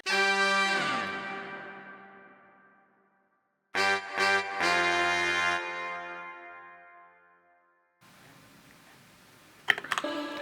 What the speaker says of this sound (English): we have these horn samples that I kind of cut up and spliced together